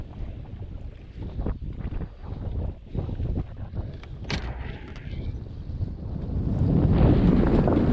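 Wind and water noise aboard a sailboat heading out of a harbor under northwesterly winds, a continuous rushing buffet with hull and wave wash that swells louder toward the end.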